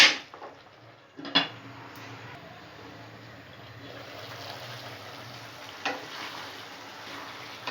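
Tomato and bean curry in a pan: a lid clatters on, then a quiet, steady simmering sizzle continues underneath with faint occasional ticks.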